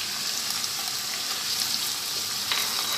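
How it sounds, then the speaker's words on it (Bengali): Ginger, garlic and cumin paste frying with onion in a pan gives a steady, soft sizzle and crackle with no talking, a brief sharper spatter near the end. "এই আদা রসুন জিরা বাটা আর পেঁয়াজটা সব একসাথে আবার একটু 2-1 মিনিট কষিয়ে নিব।"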